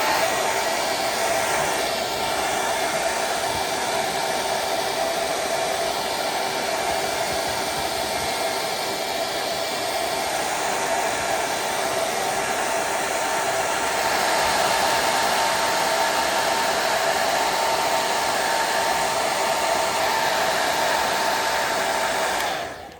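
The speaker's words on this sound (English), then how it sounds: "get yourself a hair blow dryer and then get it on the hottest setting and just heat it up" A hair dryer blows steadily on its hottest setting, a constant loud whooshing hum that runs without a break until it cuts off at the very end.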